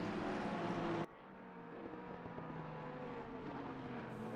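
Porsche race car engine in Assetto Corsa Competizione racing at Brands Hatch, a droning engine note that cuts abruptly after a second to a quieter, rising whine from further off, no voices.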